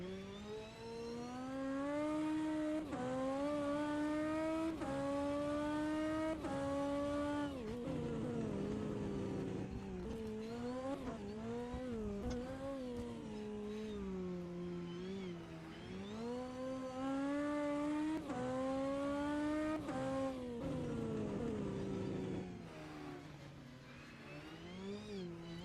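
BMW race car engine in the rFactor 2 racing game, a loud sustained engine tone rising and falling with repeated upshifts and downshifts as the car accelerates and brakes, continuous throughout.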